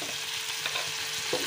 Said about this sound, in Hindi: और टमाटर डालने के बाद इसको एक बार और चलाएंगे